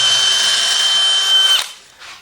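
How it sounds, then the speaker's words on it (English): A power drill bores a hole into the corner of a timber frame piece for a workshop stair landing, a loud close whine that cuts off sharply and is followed by a brief rustle. "So if I just drill a hole right in the corner to begin with,"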